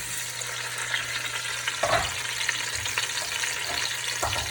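Tomatoes and onion hit hot olive oil over high heat, a steady close sizzle with a few stirring scrapes and louder spatters, no talking.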